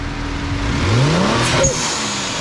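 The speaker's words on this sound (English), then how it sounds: "As you guys hear that whistle, obviously you guys, we have the intakes, the engine intakes, we have the blowout valve." A 2018 Kia Stinger 3.3 V6 with its hood open revs up loudly and continuously, with a thin high whistle from the blow-off valve rising near the end as the engine note falls away.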